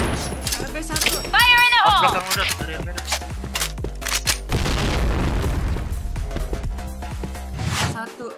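A grenade blast in the shooter game Point Blank, a loud booming explosion with gunfire and in-game effects, under a player's excited voice calling out over the action.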